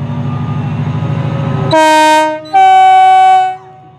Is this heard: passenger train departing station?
yes